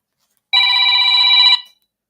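A telephone rings once for an incoming call, a loud, clear electronic tone lasting about a second, alone in otherwise silent surroundings.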